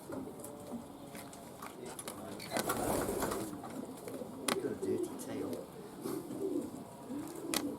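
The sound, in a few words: racing pigeons cooing in a loft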